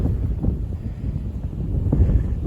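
Wind blows across an open winter pasture where cattle graze along a tree line, making a loud, steady low rumble that buffets the microphone in gusts, with no voices.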